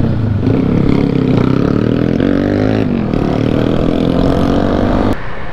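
A Yamaha WR 250 supermoto motorcycle engine revs and holds high RPM close to the microphone, loud and sustained with rising and falling pitch, then cuts off sharply near the end.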